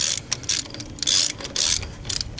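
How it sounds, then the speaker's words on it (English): A ratchet wrench clicks in quick bursts while tightening a spark plug on a 2013 Cadillac ATS 2.0T, several close, bright runs of ratcheting separated by short pauses, with no talking. "Make sure you flip the switch on your wrench and just go. Tighten it down."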